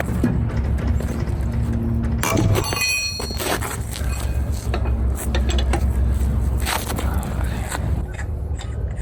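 A trailer being jacked up, with a steady mechanical ratcheting and clanking close by over a constant low background hum, broken by a brief burst of metallic rattles early on.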